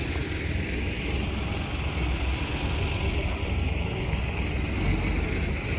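An Arjun 605 DI tractor idles steadily at a busy tractor market, a continuous low diesel rumble holding even throughout with a broad wash of background noise and no pauses.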